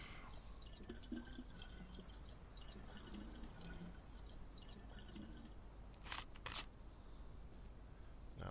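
A canteen filled with water at a well in the DayZ video game, a faint, steady trickle and drip of pouring water, quiet throughout.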